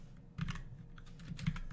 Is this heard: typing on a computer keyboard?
yes